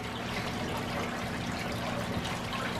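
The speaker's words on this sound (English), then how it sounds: "Put that water clarifier in there." Water clarifier is poured into a backyard pool, a continuous close trickling and splashing of liquid running steadily for a few seconds with no talking.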